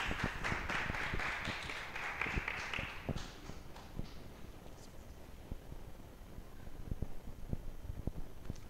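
Audience applause for a group of girl performers at a live show, a dense burst of clapping that is strongest at first, then thins to scattered claps and picks up again toward the end.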